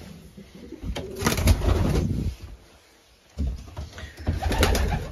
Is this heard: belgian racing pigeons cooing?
yes